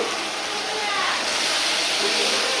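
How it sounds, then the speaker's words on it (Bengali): Water poured into a cooking pot over blended roast masala, a steady bright rushing splash heard close and loud for the whole stretch, with no talk over it. "এটা ধুয়েই পানি দেব"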